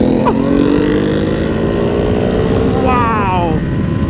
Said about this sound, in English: It makes me want a monster just because of that exhaust.